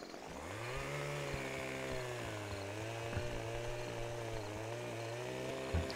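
A chainsaw cuts through a tree trunk in Farming Simulator 15. Its engine holds a loud, steady drone for several seconds, with slight pitch wobble as the blade bites, and no voices.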